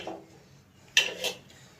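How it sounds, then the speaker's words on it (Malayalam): A cooking pot is set onto a stove before mushroom curry is made, with two quick, close metallic clanks in a row against an otherwise quiet kitchen. "അപ്പോൾ നമുക്ക് തീ കത്തിച്ച് പാത്രം വെക്കാം."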